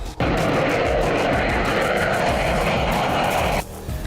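An F/A-18 Hornet fighter jet from Australian military exercises roars past as a loud, continuous, broadband engine rush that cuts off sharply near the end.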